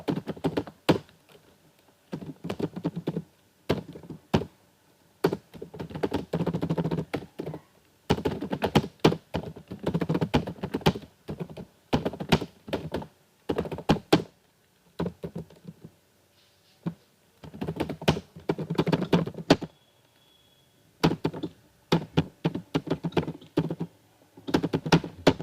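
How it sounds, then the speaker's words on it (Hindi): Fast typing on a computer keyboard during data entry in billing software, with dense bursts of close, clicky keystrokes and thunks separated by short pauses. "तो मैं फटाफट टाइप कर लेता हूँ"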